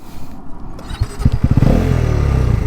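A 2024 Bajaj NS400Z motorcycle pulls away in first gear, its engine note climbing from a rough idle into a loud, close, rising rev.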